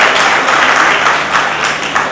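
Audience applause fills a college hall during a B.Ed. and M.Ed. programme, a steady, dense wash of clapping that holds for about two seconds with no talk over it.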